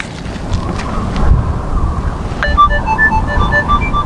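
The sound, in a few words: wind noise on the microphone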